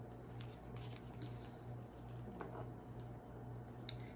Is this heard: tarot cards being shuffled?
yes